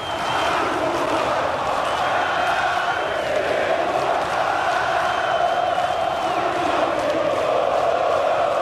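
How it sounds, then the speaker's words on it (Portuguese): A stadium crowd in the PES 2013 football video game keeps up a steady, loud roar of cheering and chanting with no pauses. "Agora, a torcida está no clima da decisão."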